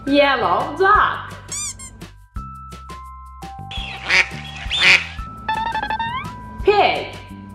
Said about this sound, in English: Yellow duck.